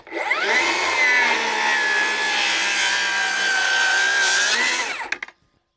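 A Milwaukee rear handle circular saw cuts through wood in a single continuous pass, its high whining motor loud and close, ending as the blade spins down and stops.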